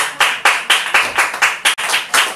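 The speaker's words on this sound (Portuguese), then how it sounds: "Então vamos aplaudir esse Deus maravilhoso." A church congregation claps in a steady rhythm during an evening communion service, about nine loud, even claps close by, with no talk over them.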